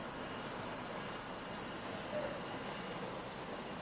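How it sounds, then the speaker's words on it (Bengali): A turboprop airliner engine at an airport, with its propeller spinning after start-up, drones as a dense, steady roar, heard from outside at a moderate distance. "দেখেন একটা ইঞ্জিন স্টার্ট দেওয়া হয়েছে, পাখা ঘুরছে।"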